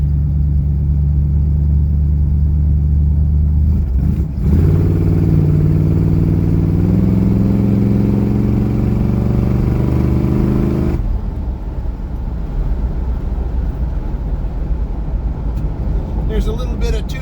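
A restored 1965 Buick Riviera's engine rumbles loudly up close on its first drive along a dusty road, rising into a deeper, throatier drone midway before settling back to a rough idle-like rumble.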